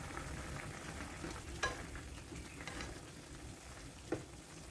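Pork blood stew with chili simmering in a pan, a steady low sizzle and bubbling throughout with a couple of brief utensil clicks, fairly quiet and with no talk.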